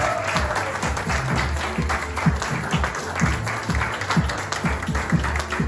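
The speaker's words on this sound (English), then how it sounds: "I would like you to give them a great big round of applause" Audience applause at a public speaking event, a full room clapping steadily for nearly six seconds with dense, overlapping claps and a low musical hum underneath.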